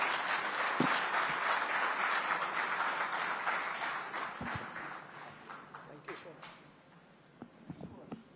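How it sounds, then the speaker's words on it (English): An audience at the India Today Education Summit 2024 applauds a guest: sustained dense clapping from a large crowd in a hall, gradually thinning and fading, with a few scattered claps at the end. "please give him a very big hand"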